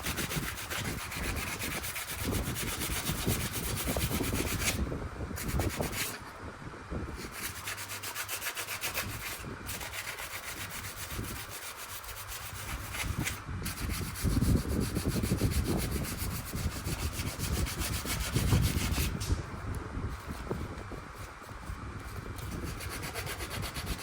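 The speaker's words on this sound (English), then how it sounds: "Sand it down." Wood being sanded by hand during a beam and drywall repair job, a steady scratchy rubbing that runs continuously with rhythmic back-and-forth strokes, close and fairly loud, with no talking.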